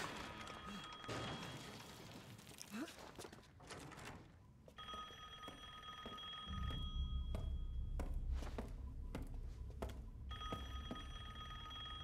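A telephone rings in Resident Evil Village, its bright tonal rings sounding intermittently over low rumbling ambience and occasional thuds, with no speech.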